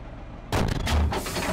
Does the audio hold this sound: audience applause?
no